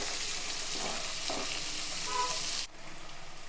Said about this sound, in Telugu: రెండు ఉల్లిపాయలండి ఈ మాత్రం సైజు ఎక్కువ అక్కర్లేదు ఇవి బాగా వేగనిద్దాం